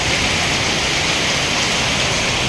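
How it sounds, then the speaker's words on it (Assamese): Heavy rain pours down in a dense, unbroken roar of water, loud and steady from start to finish, with no speech. "বৰষুণ দি আছে গাইজ, কি বৰষুণ চাওকচোন"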